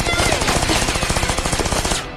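An anime gun fires a rapid, steady burst of automatic shots, a dense rattling stream of gunfire lasting a couple of seconds and then cutting off abruptly.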